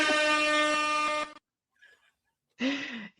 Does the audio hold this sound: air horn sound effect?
yes